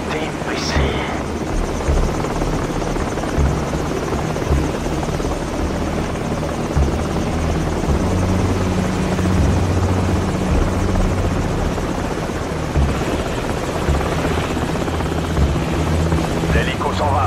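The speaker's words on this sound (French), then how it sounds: "L'hélico s'en va." A helicopter in the Call of Duty Modern Warfare video game drones loudly and steadily overhead, its dense rotor roar filling the whole stretch with little change in level.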